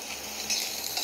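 Spices sizzling and being stirred in hot oil for an Indian tadka, a steady loud crackling fry with no voices.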